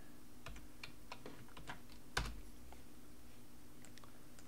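Someone types a password on a computer keyboard while logging into Microsoft 365, a short run of quiet, separate keystrokes with one sharper key hit near the middle, close and alone with no talking.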